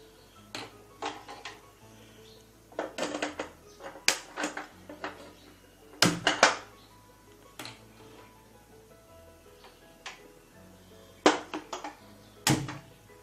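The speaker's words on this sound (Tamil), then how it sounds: "இங்கே வந்து கொள்ளு வந்து வறுக்கிறோம்" Horse gram being dry-roasted in a pan, heard as scattered clusters of sharp clicks, taps and rattles from the seeds and the metal pan, fairly close, with quiet gaps between bursts.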